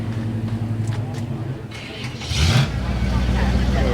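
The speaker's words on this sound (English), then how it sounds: "Cars are rolling out." Cars pull away from a Cars and Coffee car show in Altadena, with engine rumble passing nearby and one vehicle revving up midway, over a general outdoor hum.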